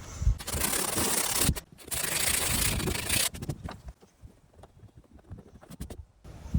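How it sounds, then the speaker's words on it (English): Sandpaper of 150 grit scrubs the vinyl surface of a Coleman inflatable hot tub. Two bursts of brisk, scratchy rubbing are followed by lighter, patchier strokes, all close up. "we are going to just rough up this area with some sandpaper, some 150 sandpaper."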